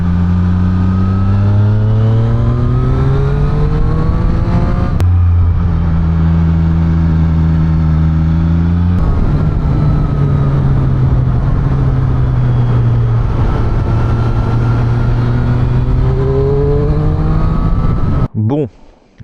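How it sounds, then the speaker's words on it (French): A car being driven on the road, its engine humming steadily and shifting pitch as it accelerates and changes gear, loud and close throughout, with a brief cut near the end. "je vais rouler un petit peu"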